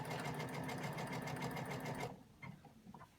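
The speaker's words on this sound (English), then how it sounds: "my machine automatically is back stitching" A sewing machine back stitches over elastic on a scrub hat in a quick, busy burst of rattling stitches for about two seconds, then stops, leaving near silence.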